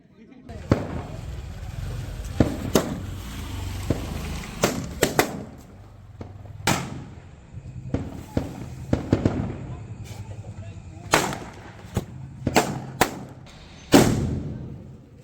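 Diwali firecrackers and fireworks bursting in a village, a string of sharp loud pops and thuds at irregular intervals, some close and some farther off, with occasional background voices.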